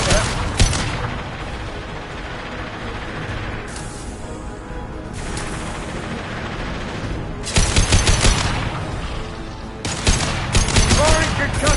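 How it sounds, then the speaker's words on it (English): Impact shot weapon fire in Mass Effect 2, with heavy, punchy blasts and rattling gunfire in loud clusters at the start and again in the later seconds, a lower rumbling stretch between them. "Firing an impact shot."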